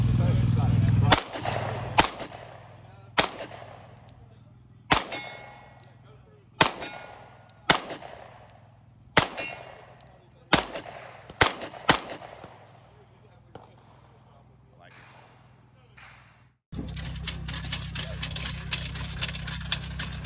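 A PSA Dagger pistol is fired at an outdoor shooting event, about a dozen loud, sharp reports spaced a second or two apart with ringing decay, followed by a steady background hiss near the end.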